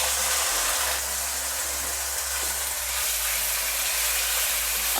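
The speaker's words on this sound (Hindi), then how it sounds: "अच्छी तरह से फ्राई करेंगे चिकन को" Chicken frying in oil with ginger garlic paste in a pot over a medium flame, a steady close hiss and sizzle that continues without pause.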